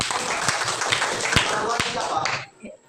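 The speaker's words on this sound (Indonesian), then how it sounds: "Berikan aplaus semua." An audience applauding after being asked to give a round of applause, a dense burst of clapping with a few sharper claps that stops abruptly near the end.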